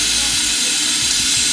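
Bread fries in a pan in a cooking video game, a steady, loud, close hiss of sizzling that continues throughout.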